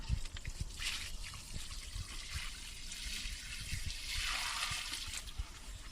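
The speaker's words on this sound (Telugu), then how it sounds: "వాటర్ కూడా అయితే పోస్తున్నాం చూడండి" Water pouring and trickling steadily, close by, with a soft splashing hiss that swells toward the end and low thumps underneath.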